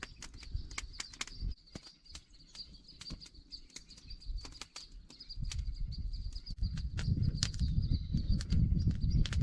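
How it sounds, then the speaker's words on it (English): Birds chirping in quick, scattered high tweets over a quiet background, with a soft low rumble rising toward the end. "Listen to those birds. They're all happy about the sunshine."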